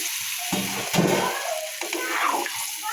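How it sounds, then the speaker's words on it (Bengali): A small splash of water goes into a pan of cauliflower that was already fried and stirred. A sharp burst of sizzle and bubbling follows and comes in short surges close by. "একটু অল্প পরিমাণে জল দিয়ে দিলাম"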